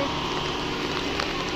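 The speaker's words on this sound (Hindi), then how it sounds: "ठंडा मौसम हो गया और बारिश बहुत हो रही है।" Heavy rain pours steadily during cool weather at a home with a pomegranate plant, a dense, continuous hiss close by with no gaps across the short stretch.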